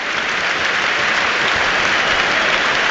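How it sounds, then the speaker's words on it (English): A football crowd applauds a substituted player during a Bradford versus Carlisle play-off match, a loud, continuous wash of stadium clapping that holds steady throughout. "the ovation here for Scott Banks"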